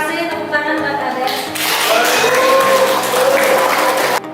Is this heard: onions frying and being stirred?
no